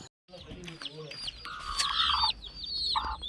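Chickens in a pet farm cage cluck and squawk at moderate distance, with short bursts of calls over a quiet background and a voice talking at times.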